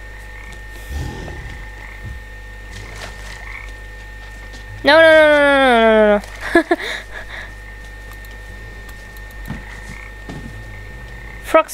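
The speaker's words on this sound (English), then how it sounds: "Frogs pick them up or drop them gently." Frogs in the video game Papo & Yo let out one loud, rising, harmonic croak lasting about a second. Before and after it come scattered small clicks and thumps over quiet ambience, and one short spoken word falls in the quiet stretch.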